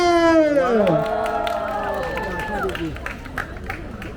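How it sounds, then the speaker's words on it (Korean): A street busking crowd in Hongdae, Seoul, cheers and claps loudly, with a shrill whistle or shout sweeping over the mix and scattered applause continuing around the performance. "박수!"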